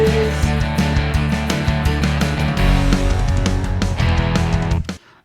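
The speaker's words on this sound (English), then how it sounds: "using a bass bomb to relieve that tension and add impact" A dense GarageBand song outro with drums, bass and layered instruments, where a deep bass bomb sub hit swells in about halfway through and thickens the low end before the mix fades out.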